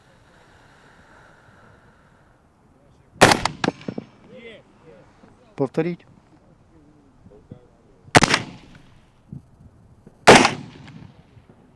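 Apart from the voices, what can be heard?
rifle shots fired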